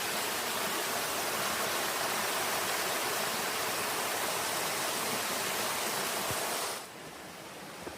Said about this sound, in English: I want to get some better video once I get on the other side, because we actually cross this creek.